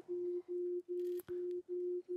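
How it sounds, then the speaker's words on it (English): Pure sine-wave tones standing for colour hues from red to violet, a steady series of six short beeps separated by brief gaps, with one faint click partway through. "It's sine waves, so pure notes that go from red to violet."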